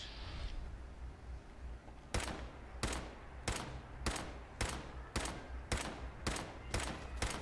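Turrets fire in Fallout 4: after a brief roar, ten evenly spaced, sharp gunshots ring out at a steady pace, loud and close over a continuous low rumble.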